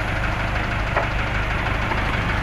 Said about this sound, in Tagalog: Ito naman yung makina mga kapobre.